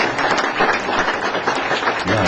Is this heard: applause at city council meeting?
yes